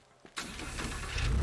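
An engine starts up in the video game Teardown, a brief click giving way to a rising, steady motor hum that grows slightly louder and rougher at the end, heard alone without voices.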